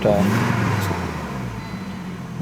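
A Volvo 850 GLT engine with a slight stumble accelerates close by, a steady loud mid-pitched engine roar that holds fairly even, with a faint whine near the start.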